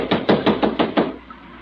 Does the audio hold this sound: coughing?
no